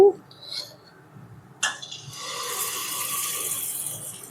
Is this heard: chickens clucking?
no